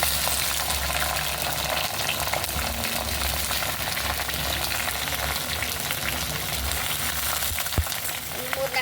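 Brinjal fries in a tablespoon of oil, giving a continuous close sizzle with bubbling hiss that stays loud and even throughout, with a faint knock near the end.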